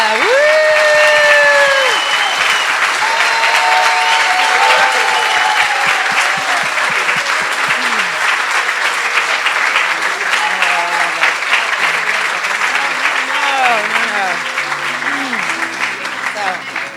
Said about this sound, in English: give Carol a huge round of applause